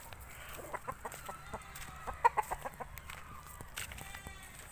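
A fighting rooster, a gamecock, clucks and makes short calls in a rural yard among coconut trees, with a series of soft, fairly faint calls and one sharper note at the center, set against quiet outdoor background noise.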